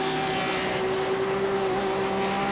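Race cars lapping Watkins Glen in a sim racing game, with a steady engine drone carrying a strong sustained tonal whine and no voices.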